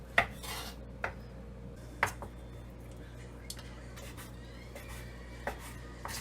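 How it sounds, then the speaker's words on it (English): A knife chops the rough end off a vegetable on a kitchen board, giving several sharp, close knocks spaced about a second apart over a quiet room hum, with no talking. "Just chop that up, chop that off."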